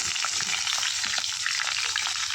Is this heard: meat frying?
yes